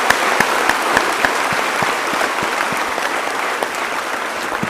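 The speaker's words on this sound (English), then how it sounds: "Now give yourselves a huge round of applause for being such a patient audience." Audience at an interactive JEE toppers session gives a dense, steady round of applause, loud and sustained from start to finish, with no talk over it.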